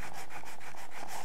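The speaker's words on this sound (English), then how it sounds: "I'm gonna use a fine sanding block." A fine sanding block scrubs back and forth across damaged wood trim in quick, even strokes, close and steady with no voices.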